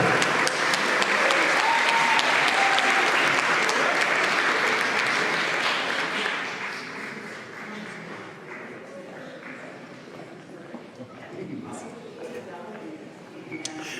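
An audience at a School of Media Studies graduation recognition ceremony claps and cheers loudly for several seconds, then the applause fades to scattered clapping and murmuring.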